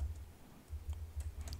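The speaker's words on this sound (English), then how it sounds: "Let me type something real quick." Quick typing on a computer keyboard in bursts of soft clicks and taps, close and fairly quiet, with no talking.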